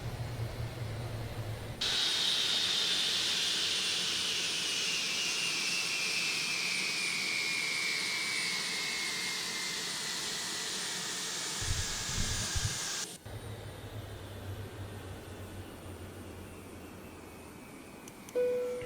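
Airliner jet engines spooling down after the aircraft parks at the gate. A loud, steady roar with a high whine that slowly falls in pitch, then cuts off and leaves a lower, steady APU hum.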